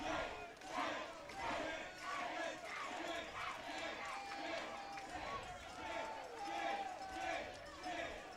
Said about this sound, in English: Crowd here certainly full of life.